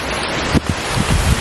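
Wind blows across open countryside, a steady broadband rush with a few brief gusty buffets against the microphone.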